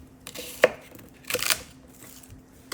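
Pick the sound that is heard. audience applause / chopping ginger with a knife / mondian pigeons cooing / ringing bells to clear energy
chopping ginger with a knife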